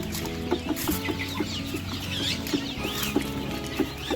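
Several chickens cluck steadily in short, repeated bursts at close range on a poultry farm, with a low background hum and occasional higher chirps.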